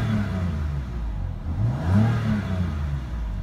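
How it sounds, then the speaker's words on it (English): A BMW M4 Coupe Competition engine in efficient mode idles and revs smoothly at close range, a steady low exhaust drone that swells briefly midway before settling back. "which will drastically change the car's sound. So this is the car in efficient mode."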